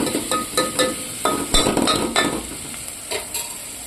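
A spoon stirs salted vegetables cooking in a hot pan, giving a run of irregular clinks and scrapes over a steady sizzle, close and fairly loud.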